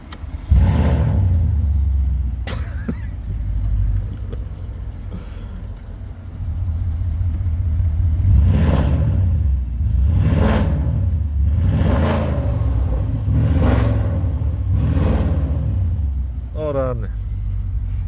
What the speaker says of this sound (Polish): posłuchajcie teraz, jak ten samochód brzmi.